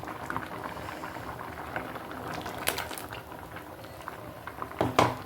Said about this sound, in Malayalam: ഇനി ഒന്ന് നന്നായിട്ട് തിളച്ച് വരട്ടെ കേട്ടോ